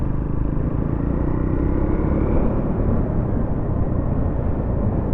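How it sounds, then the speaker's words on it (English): A Triumph Scrambler motorcycle exhaust rumbles loud and steady while riding at limited road speed, a continuous deep engine drone with no speech. "I hope the sound of the exhaust comes out on the video"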